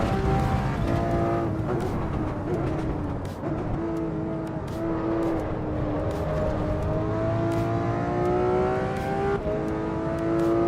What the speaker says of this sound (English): I love the Porsche sound. It sounds so good.